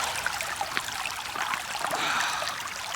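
Muddy desert creek of Wahweap Creek flowing nearby, a soft continuous trickle and burble of water with small splashy accents, fairly quiet and heard alone.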